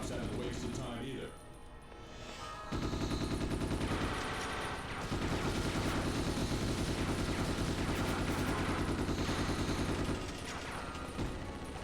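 Rapid submachine gun bursts crackle through a video game shootout, with sustained fire and mechanical clatter over a continuous game soundtrack; a quieter gap near the start, then dense, loud volleys that run for most of the stretch.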